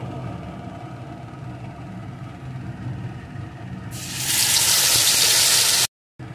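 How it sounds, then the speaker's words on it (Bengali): Ingredients with mustard seeds sizzle in a pan for grape chutney; a loud, bright hiss starts partway through over a low background hum, holds steady for a couple of seconds, then cuts off abruptly. "এখন এগুলোকে একটু লাল লাল করে ভেজে নেব।"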